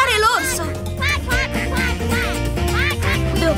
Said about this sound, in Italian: Quacco sta facendo un sacco di rumore per spaventare l'orso